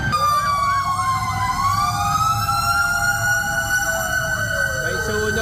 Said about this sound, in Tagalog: Uy, may bumbero na naman